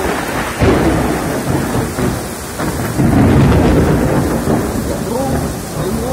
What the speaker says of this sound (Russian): Гром и молния.